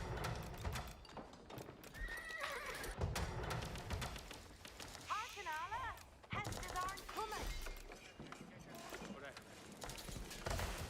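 Horses neighing and hooves clattering in the Age of Empires strategy game, repeated whinnies over busy clip-clop and battle gunfire, with a voice talking intermittently through the mix.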